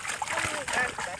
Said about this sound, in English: He's digging the shit out of that mud.